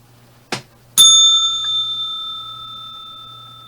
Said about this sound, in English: I'll see you at the bell